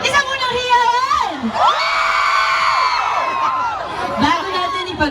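A concert crowd cheers and shouts at a founding anniversary event, a sustained loud roar of voices with whoops rising and falling over about five seconds.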